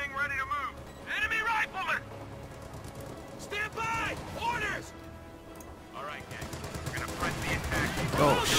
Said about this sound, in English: Volley fire! I want volley fire!